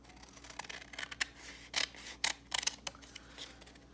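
Small scissors cutting a piece of paper close up, a series of quick crisp snips in uneven bursts over a quiet background.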